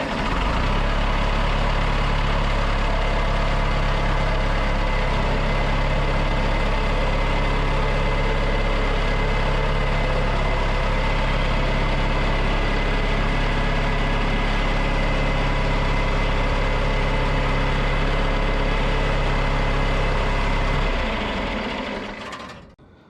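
A John Deere backhoe's engine idles loud and steady with a constant low drone, running unchanged for about twenty seconds before winding down and cutting off at the end.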